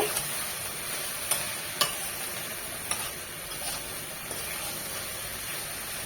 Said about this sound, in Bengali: এভাবেই একটু পরপর নেড়ে ঢেঁড়স ভাজিটা করবো